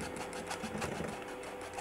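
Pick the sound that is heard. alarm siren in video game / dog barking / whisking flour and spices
whisking flour and spices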